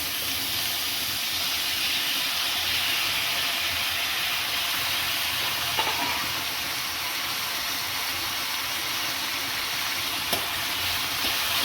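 Tomato goes into a pan of fried onions, giving a steady loud sizzle and hiss that runs unbroken, with a couple of faint clicks along the way.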